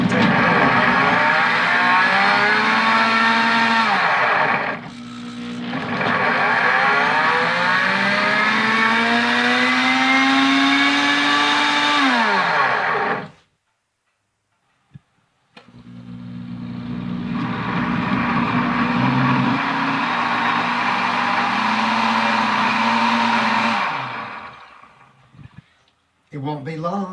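A PC Deluxe Cooking Blender heats and purees sweet potatoes with a loud, close motor whir whose pitch climbs and shifts. It cuts out abruptly partway, then spins up again and runs before stopping.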